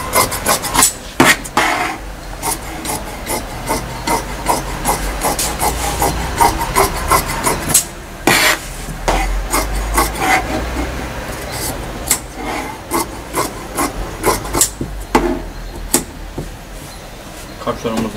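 Fabric for a tracksuit hood is being cut, giving repeated rubbing, rasping strokes close by in an irregular rhythm, with a voice talking over parts of it.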